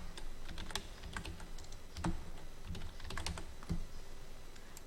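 Typing on a computer keyboard while entering text in an Excel spreadsheet, quiet irregular key clicks with a few heavier keystrokes, close and alone without talk.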